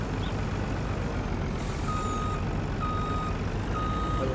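A Ford LTL 9000 truck in a video game mod sounds its reverse alarm. Faint, evenly spaced beeps sit over a loud, steady engine drone.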